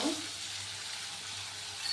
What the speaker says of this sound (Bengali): মশলাটা দিয়ে আমি একটু ভাজা ভাজা করে দেব।